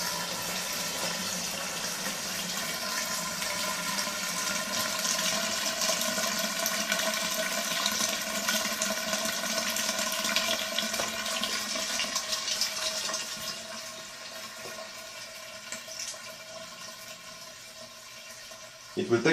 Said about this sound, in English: It will take another minute or so until all the water will go through the tunnels here, the small tunnels and the wee hole.